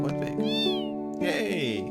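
A cat in Final Fantasy VIII gives two clear meows, a rising-falling cry followed by a longer drawn-out one, close and distinct with a voice briefly mixed in.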